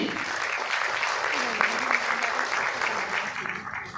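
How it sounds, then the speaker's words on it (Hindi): Audience applause fills a motivational seminar hall, a steady dense patter that stays fairly thin and even throughout, with a faint voice drifting underneath. "तालियां बड़ी कमजोर हैं, क्या लगता है?"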